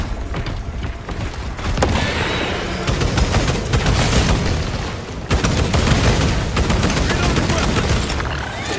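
Dense, relentless gunfire and heavy booms from a frag grenade in the Space Marine 2 video game, a loud continuous barrage of rapid shots and blasts with brief dips in the din.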